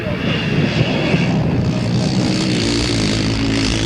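Grass track racing motorcycles at a 1980 international meeting roar down the back straight, a loud, steady engine drone that holds throughout with no pauses.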